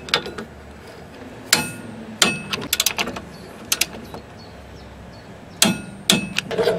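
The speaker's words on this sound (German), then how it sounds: "Und ich werde das Ganze hier mit na, 100 Newton anziehen, die beiden Schrauben." A wrench with an 18 mm socket tightens two front brake bolts to 100 Nm on a Renault Twingo, producing sharp metallic clanks and clicks in scattered clusters against a quiet background.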